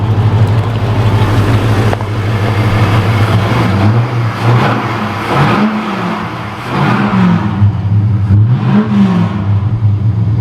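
A loud Holden VX SS car with an LS1 V8 and straight-pipe exhaust revs repeatedly with a raw, rumbling note, rising and falling in pitch close by.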